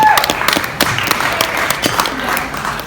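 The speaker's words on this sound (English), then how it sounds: "let's give a big round of applause for all those singers" An open-mic audience in Willowdale applauds the singers with steady, dense clapping throughout, loud and close, with a few voices faintly underneath.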